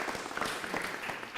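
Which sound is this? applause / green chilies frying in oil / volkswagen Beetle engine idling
applause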